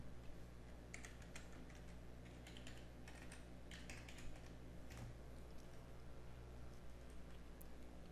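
Computer keyboard typing a username and password to log in to PRTG monitoring software, faint scattered key clicks in short bursts over a low steady hum, with no talking.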